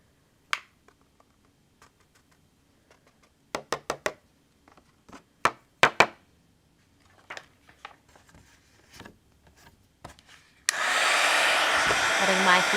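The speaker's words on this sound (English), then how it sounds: "Letting my heat tool heat up a little bit." Heat embossing tool used with white embossing powder on a holiday card, switching on near the end with a steady loud blowing whoosh after scattered light taps and clicks on a craft table.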